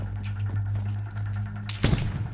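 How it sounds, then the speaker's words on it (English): A grenade goes off in the survival game DayZ. One sudden, loud, close blast comes near the end, over a steady low hum and faint background noise. "He threw a grenade."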